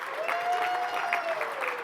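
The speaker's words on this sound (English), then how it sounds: "Give me a round of applause." Audience applause from a crowd at a branding talk, a steady wash of many hands clapping at close range for about two seconds, with a voice briefly audible over it.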